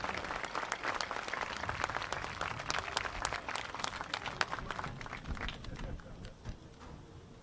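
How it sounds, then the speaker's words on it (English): Crowd applause at a 2020 homecoming football halftime show, honoring the homecoming court: steady dense clapping from a large audience across the whole stretch, fading slightly near the end. "a big round of applause for our 2020 Homecoming Court here this evening"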